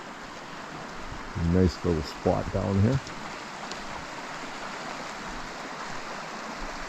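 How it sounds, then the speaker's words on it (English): Buchanan Creek in Kakwa Park, British Columbia, runs as a steady wash of flowing water in the morning, heard close and continuous, while someone speaks briefly over it early on. "This is Buchanan Creek."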